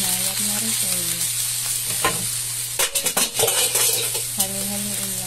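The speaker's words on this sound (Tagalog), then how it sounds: "Halo-haloin lang natin para magsama ang egg at repolyo." Shredded cabbage and egg frying in oil in a pan, a steady sizzle broken by a cluster of clattering utensil scrapes and stirring knocks near the middle, no speech.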